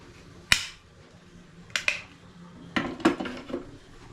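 A manual French fry cutter is pressed down through a potato, making a few sharp snapping clacks. There is one crisp crack, then a pair, then a quicker cluster, all close with quiet pauses between.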